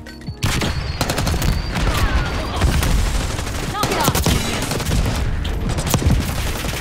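Rapid gunfire from a Call of Duty Black Ops 6 multiplayer hardpoint match, with loud overlapping bursts and sharp shots crackling continuously throughout, some machine-gun fire among them, while players talk over the shooting.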